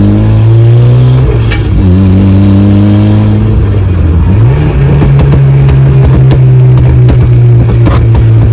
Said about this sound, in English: It's so cool driving a turbo Miata.